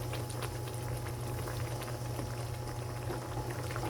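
Pechay simmers in coconut milk with tilapia, a steady bubbling and popping boil heard up close, continuous and alone for several seconds.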